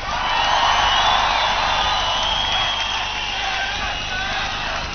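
Concert crowd at a live show, cheering and whooping in a large venue: a broad, sustained roar of many voices, loud and continuous, with no music playing.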